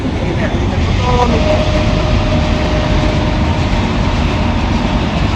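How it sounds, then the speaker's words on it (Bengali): A train rumbles past nearby in a loud, continuous roar with rattling wheels, and a voice is briefly heard over it. "ওইদিকে ট্রেন যাইতেছে"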